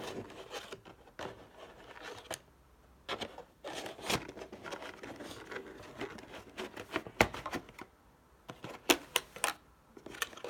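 JBL E45BT on-ear headphones are packed back into their cardboard box, giving soft rubbing, rustling and light tapping handling noises in scattered bursts with quiet gaps, close by and with no speech.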